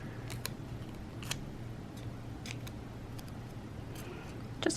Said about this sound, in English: Just cutting little pieces of tape.